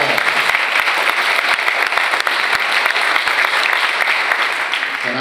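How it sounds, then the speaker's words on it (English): A crowd at a highway dedication ceremony bursts into a round of applause, loud, dense clapping close by with a few sharp individual claps standing out, sustained throughout. "That deserves a round of applause"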